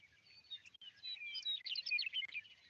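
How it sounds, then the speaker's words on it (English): Birds chirping and trilling in a nature soundscape from a Montana ecosystems story map, with a dense run of bright, overlapping tweets that builds in the second half, clear and moderately loud with no talk. "There's some birds."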